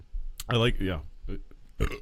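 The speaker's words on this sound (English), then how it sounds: "Hence why I just burped, and then that was my second burp, actually." A person burps after drinking very carbonated beer, one loud, close belch with a low throaty tone. Brief bits of speech come before and after it.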